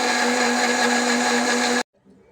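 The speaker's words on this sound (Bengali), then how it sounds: "এখন আমরা আদা ব্লেন্ডার করব।" An electric kitchen blender grinding ginger for spice paste, a loud steady motor whine with a constant pitch that runs close for nearly two seconds and then cuts off abruptly into quiet.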